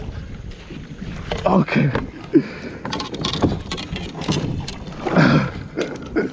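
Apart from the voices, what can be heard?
river rapids around a fishing boat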